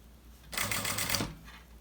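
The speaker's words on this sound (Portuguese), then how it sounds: "E aí, vai fazendo a sua costurinha bem devagarzinho." A sewing machine stitches bias binding slowly in one short burst of rapid needle clatter, close and moderately loud, starting and stopping abruptly in a quiet room.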